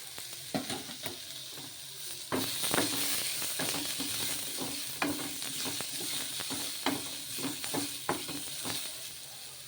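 Spices fry in a little oil in a pan for a fish curry masala, a continuous sizzle and hiss broken by repeated scraping and clinking stirring strokes.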